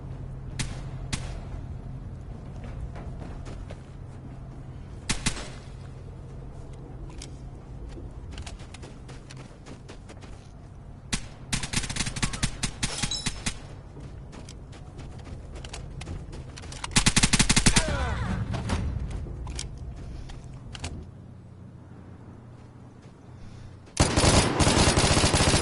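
Gunfire in an online multiplayer shooter, with scattered shots and several louder bursts rising over a continuous rumbling background, some crackling volleys clustered together.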